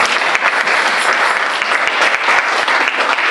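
A church congregation applauds after a call to acclaim the word of God during a French-language sermon on the peace of Jesus, dense steady clapping from many hands filling the room throughout.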